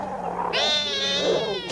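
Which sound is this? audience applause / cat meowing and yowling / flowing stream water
cat meowing and yowling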